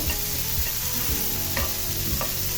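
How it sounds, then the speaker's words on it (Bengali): Onion stalks fry in a pan while being stirred, a loud close sizzle with steady scraping and tossing strokes. "নেড়ে চেড়ে ভেজে পেঁয়াজের কলিগুলো সফট হলে আমি ভেজে ফেলব"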